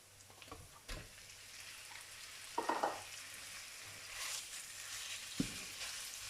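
Pork stir-frying in a pan with garlic for Thai noodles, a steady close sizzle broken by a few sharp scraping clatters of the utensil against the pan.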